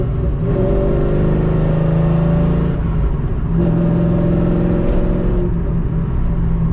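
A cammed Chevrolet Corvette drives and revs, its engine droning loud and steady with two rising surges and gear changes, heard close from inside the car.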